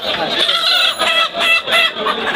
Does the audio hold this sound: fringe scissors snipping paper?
no